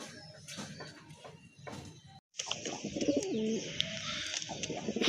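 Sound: Madrasi pigeons cooing

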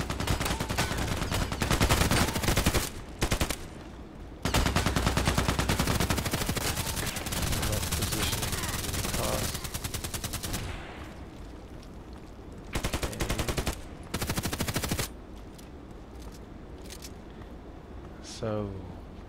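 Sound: sniper rifle gunfire in video game

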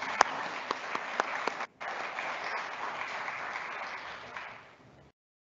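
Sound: audience applause at closing session

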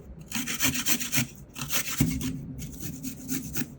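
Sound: grating green garlic

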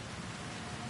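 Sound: rain falling in Cyberpunk 2077 Phantom Liberty video game

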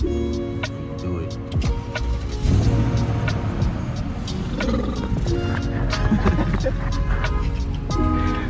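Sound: BMW X5 engine starting and idling

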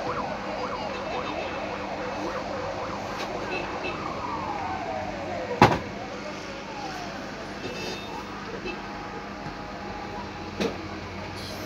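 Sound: fire engine sirens as fire trucks arrive

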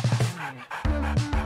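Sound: dog panting

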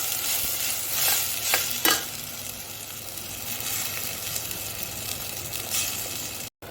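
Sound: frying tomato paste mixture in a pan

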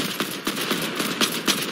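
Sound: gunfire in a video game

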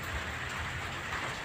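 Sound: rain falling

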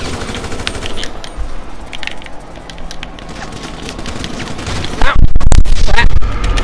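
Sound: gunfire in the video game GTA

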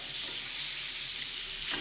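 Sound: steak sizzling in a pan

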